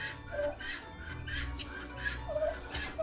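Farmyard turkeys gobbling back and forth, one puffing up while another answers, with short rattling gobbles and squawks at close range and a low rumble underneath.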